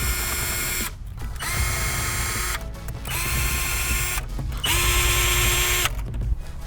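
A ratchet wrench spins out 10mm bolts inside a car interior, three long bursts of rapid clicking separated by short pauses, close and loud with no talking.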